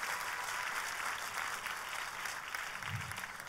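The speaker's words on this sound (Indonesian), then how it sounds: "Kita berikan tepuk tangan yang paling meriah" A church congregation applauds during a sermon, with faint, steady clapping that fills the whole stretch at a distance.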